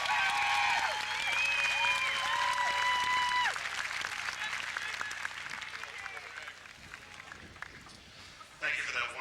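Audience applause at the 2002 Haas commencement ceremony greets a speaker, steady and full at first, then thinning and fading over several seconds before a short final swell, with voices and cheers mixed through the crowd.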